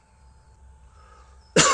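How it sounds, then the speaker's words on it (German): A single short, loud cough bursts out at the very end after near silence with a faint steady hum. "Husten ist noch ein bisschen schwierig."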